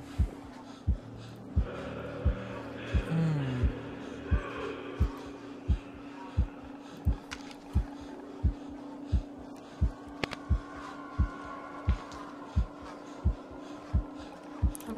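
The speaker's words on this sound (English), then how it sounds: "Why is my heart beating faster?" Steady heartbeat in the horror maze game Medusa's Labyrinth, regular thumping pulses roughly once a second, loud and close, over a low droning ambience with faint breathy sounds.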